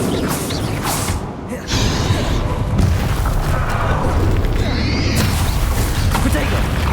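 Spell blasts and crackling magical impacts from a Confringo-heavy duel in the video game Hogwarts Legacy, a dense, continuous roar of booming effects and rumbling mechanisms with a voice casting spells over it.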